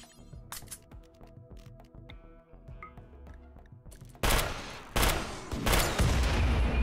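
Rocket launcher firing in a modded RimWorld-style colony battle game, a dense run of loud explosive bursts and rapid gunfire that erupts abruptly after a quieter stretch of clicks and small impacts.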